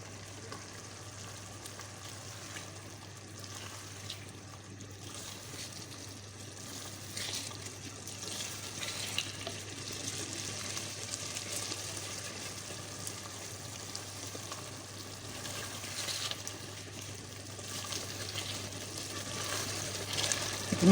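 Meat and turnip curry sizzles and crackles on a high flame in a pot, a soft, continuous frying hiss with a low steady hum beneath it, gradually growing a little louder.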